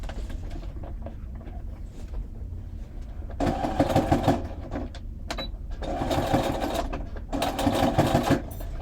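A sewing machine stitches fabric for a winter dog jumper: two sustained bursts of rapid mechanical whirring with a pause between, close and clear, with quieter handling noises before.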